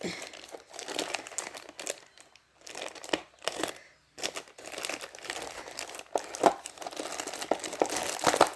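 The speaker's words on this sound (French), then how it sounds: "je fais du bruit avec le plastique" Plastic packaging crinkles and crackles close up in irregular bursts, with brief quiet pauses between handling sounds.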